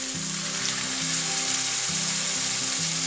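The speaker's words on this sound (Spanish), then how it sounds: "Vamos a poner ya el hígado aquí en nuestro sartén. Ya tengo aquí el sartén bien caliente." Liver frying in a very hot pan with three teaspoons of oil, giving a steady close sizzle that holds throughout with no talking, while a low hum drifts in and out underneath.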